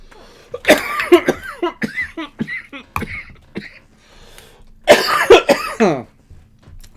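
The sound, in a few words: coughing after vaping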